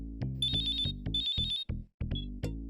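A phone ringtone plays a bright electronic melody in repeated bursts with short gaps, loud and close, with no talking over it.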